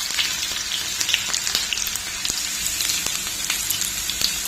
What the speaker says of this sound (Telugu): ఈ ఆనియన్స్ బ్రౌన్ కలర్ వచ్చే వరకు గోల్డెన్ బ్రౌన్ కలర్ వేయించుకున్నామండి